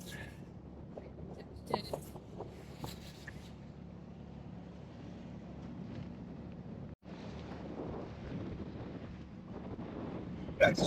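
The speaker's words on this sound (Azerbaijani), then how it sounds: "Amma külək dəhşət." Strong wind buffets a boat at sea off Iceland on a whale-watching tour, a steady roaring rush over the hull and engine with gusts hitting the microphone, continuous throughout with a brief dropout.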